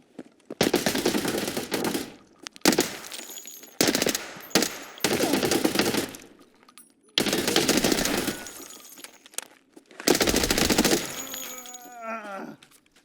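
Gunfire in Escape From Tarkov comes in several loud bursts of rapid automatic shots separated by short silences, ending with a ringing, fading tail.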